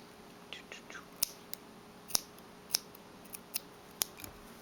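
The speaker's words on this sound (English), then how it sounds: "I'm going to trim that off." Scissors trim a loose crochet yarn end with a series of sharp, close snips at irregular intervals over a quiet background.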